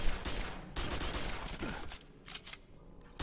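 Rapid bursts of automatic machine gun fire in the Quake 4 video game, dense and loud through much of the passage, thinning out near the end.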